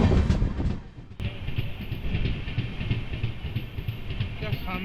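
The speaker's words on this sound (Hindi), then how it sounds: "क्या शानदार डिपार्चर हो रहा है अराकुनम जंक्शन से।" Train pulling out of Arakkonam Junction, a loud rumbling roll with rhythmic wheel clatter and a sharp clank near the start, heard close from on board with faint background voices.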